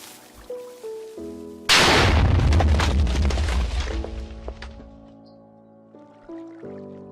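Cannons firing in Minecraft, a sudden loud boom followed by a sustained rumbling burst of explosions that decays over several seconds, set against steady tonal background music.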